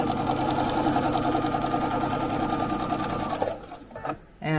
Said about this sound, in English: I can just stitch up the center of that stem